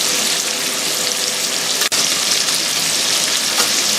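Sausages browning in a hot pan for a Dublin coddle, giving a steady, loud, close sizzle and crackle of frying fat that runs unbroken, with one brief dip partway through.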